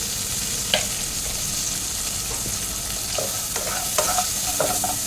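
Food fries in a pan after turmeric and salt go in, a close, continuous sizzle broken by sharp scraping clicks of a spoon stirring, without any talk.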